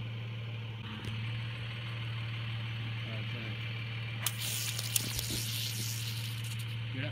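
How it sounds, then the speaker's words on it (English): An Arizona rattlesnake gives a dry, hissing buzz of a rattle that starts partway through and keeps going, fairly faint over a low, steady hum. "Hear that rattle?"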